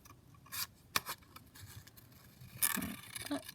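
Scissors cutting paper shapes for a junk journal, a few quiet snips and rustling paper scrapes close by, with a slightly longer cutting pass near the end.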